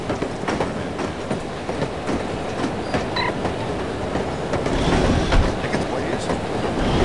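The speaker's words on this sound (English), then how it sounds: "love riding the train." Continuous rolling rumble of a train on rails in the 2000 video game No One Lives Forever, with a rhythmic clickety-clack and occasional wheel squeal, growing slightly louder toward the end, with no talking.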